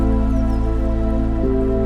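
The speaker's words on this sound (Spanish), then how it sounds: "Y a la mitad del recorrido regresa nuevamente la lluvia." Steady rain pours onto an open, roofless barge crossing a fjord on the way to Villa O'Higgins, a dense continuous patter of drops alongside a low engine drone, with no talking.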